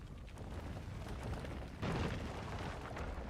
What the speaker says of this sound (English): Oh no, it's still exploding